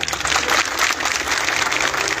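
Large gathering of villagers claps loudly and steadily in a brief, dense burst of applause with a faint crowd murmur underneath.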